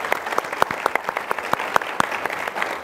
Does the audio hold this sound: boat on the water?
no